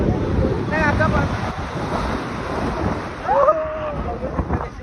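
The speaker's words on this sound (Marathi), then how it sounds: "आता मी लाटा दाखवतो डायरेक्ट जवळ" Broadband wave wash and wind noise near the shore of a Goa beach, rushing steadily with a surge partway through, and faint voices mixed in.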